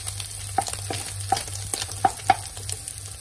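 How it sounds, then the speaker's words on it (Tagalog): Garlic frying in a pan gives a steady low sizzle, with a few light clicks and stirring scrapes scattered over about three seconds. "Tapos ilagay ko yung bawang."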